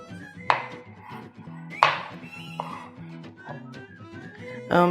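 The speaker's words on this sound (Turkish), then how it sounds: "Ama bunu biraz daha küçük doğruyorum." A knife chops red kapya pepper on a cutting board, with a few sharp, separate strikes spread out under steady background hum.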